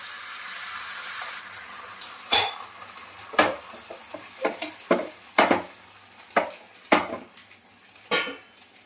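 Beaten egg fries in oil on a hot tawa for an egg roll, a soft steady sizzle running beneath a series of sharp clinks and scrapes of a utensil against the griddle, close and fairly loud.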